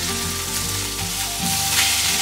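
Pieces of striped bass fry in a cast iron skillet with a loud, continuous sizzle and crackle. A spatula briefly scrapes underneath as a piece is flipped.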